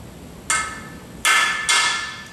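Three sharp metallic taps ring out as a freeze plug is driven into an engine block for a 408 stroker build using a socket, each hit loud and close with a short ringing decay.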